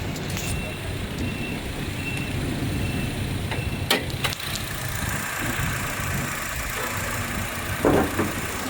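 A 2016 Honda Brio manual with 8,000 km idles with a steady low engine rumble, with a couple of brief clicks and knocks over the continuous hum.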